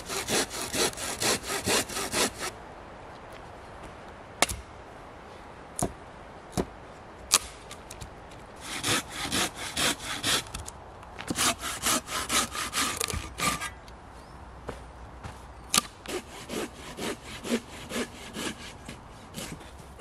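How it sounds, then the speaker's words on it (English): A hand saw cuts firewood outdoors in the woods, with bursts of rasping back-and-forth strokes broken by short gaps and a few sharp knocks, close and clear. "your saw blade is to the side of the piece you're cutting on"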